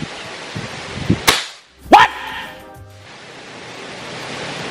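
A sharp PCP air rifle shot cracks over steady background hiss, followed a moment later by a bright, ringing metallic impact.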